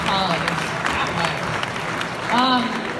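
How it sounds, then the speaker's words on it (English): Audience applause at a tech startup pitch competition, a steady wash of clapping throughout while voices talk over it near the start and again toward the end. "Big round of applause for MapHubs."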